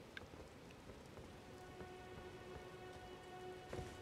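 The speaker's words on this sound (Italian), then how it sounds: "si è messo a piovere" Steady rain falls in the open world of the video game Elden Ring, a soft continuous patter of drops on surfaces with no voices.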